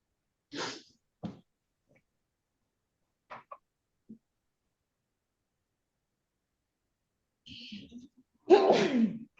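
A single short sneeze bursts out near the end, close and fairly loud, during a quiet online court hearing with scattered breaths and small noises around it.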